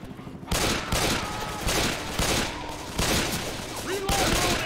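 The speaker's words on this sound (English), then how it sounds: "That gunshot is very loud." Gunfire from the video game Left 4 Dead 2, including pistols, with loud, sharp shots in a rapid uneven series. A voice is faintly present in the background.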